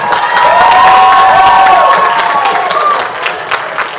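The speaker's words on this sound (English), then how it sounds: "Everybody, round of applause for Fitch's Got Talent." Loud crowd applause and cheering fill a high school talent show auditorium, with whoops and a sustained shout over steady clapping that swells early and tapers after about three seconds.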